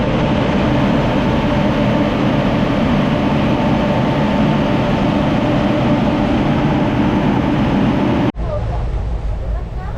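A loud, steady rumble of a moving train, travelling from Coimbatore via Shoranur, fills the clip, broadband and constant, then abruptly drops to a quieter hum near the end.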